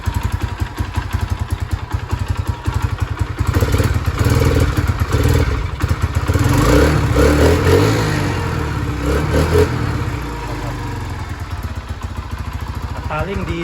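A Honda Sonic 125 motorcycle with a freshly tuned carburetor runs loud and close, its engine rattling steadily and then revving up and down through the middle before settling back, with someone speaking over it.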